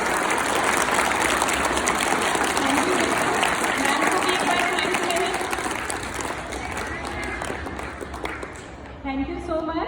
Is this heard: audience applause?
yes